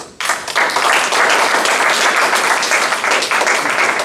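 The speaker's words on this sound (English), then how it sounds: "I think we should give everyone another round of applause for their outstanding British parliamentary debate." A room full of people applauds debaters after a British parliamentary-style debate at a Japan-US exchange at Kyushu University; dense, loud, steady clapping begins abruptly and holds for about four seconds with no talk over it.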